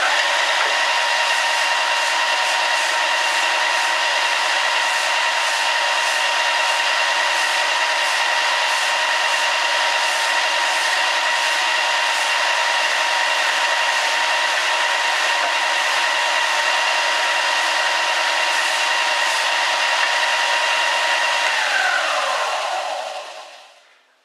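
A Mastercraft 4x36x6 belt and disc sander runs with a steady, loud whirring hum as a brush cleans the belt. The sound holds evenly for over twenty seconds, then winds down at the end.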